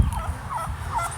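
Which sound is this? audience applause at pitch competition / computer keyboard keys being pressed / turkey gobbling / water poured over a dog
turkey gobbling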